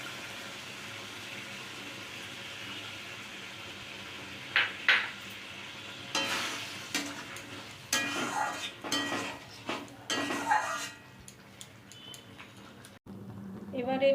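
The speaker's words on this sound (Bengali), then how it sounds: "এবার একটু সামান্য দুধ দিয়ে দিচ্ছি।" Paneer curry cooking in a pan after a little milk is poured in, with a low simmer under clinks and scrapes of a utensil against the pan, close and fairly quiet.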